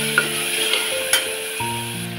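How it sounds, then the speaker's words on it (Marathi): Whole masoor lentils are sautéed in oil with chilli powder and turmeric, Kolhapuri dhaba style. A moderate sizzle carries light spoon scrapes and a sharp tap over a steady humming tone in the background. "त्याच्यामध्ये आपण टाकूया अख्खा मसूर आणि परतून घेऊया"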